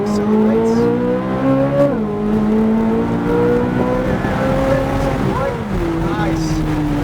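A supercar accelerates along a track, its engine rising in pitch, dipping briefly at a shift and climbing again, loud and close from inside, with a voice partly over it.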